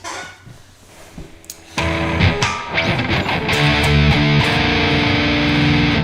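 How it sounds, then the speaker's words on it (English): A heavily distorted electric guitar rings out a minor sixth chord in a metal style, entering sharply after a quiet opening and sustaining loud and dense to the end, with no voices. "So that is the sound of a minor 6"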